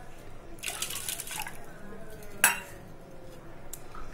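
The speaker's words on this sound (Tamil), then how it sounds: "இப்போ இதில் நான் புளி தண்ணியை சேர்த்துக்கலாம்." Tamarind water poured and stirred into buttermilk in a kitchen for spiced neer mor, giving a second of splashy rushing liquid, then one sharp utensil clink against the vessel and a fainter tap near the end.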